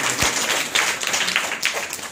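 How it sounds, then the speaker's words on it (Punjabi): Audience applause for a school principal at a children's show, a steady wash of clapping that runs the whole moment with a couple of louder surges, no voices over it. "ਤਾੜੀਆਂ ਮਾਰੋ ਭੁੱਲਰ ਸਾਹਿਬ ਦੀ"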